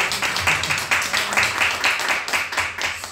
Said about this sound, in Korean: 우리 한번 축하 박수 한번 할까요?